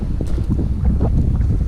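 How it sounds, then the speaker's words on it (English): Steady wind buffets the microphone, a low continuous rumble with no other sounds. "It's a little windy out here."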